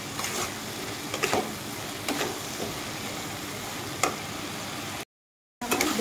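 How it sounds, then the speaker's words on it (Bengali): Boiled potatoes fry with spices in a pan, a steady close sizzle broken by scraping strokes of a spoon every second or so, with a brief dropout near the end. "মশলার সাথে আলুটাকে কষিয়ে নিচ্ছি"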